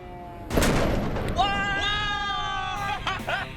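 An ice cannon fires with a sudden loud boom-like blast, followed by raised, excited voices and some cheering, with harmonic shouts carrying on after the shot.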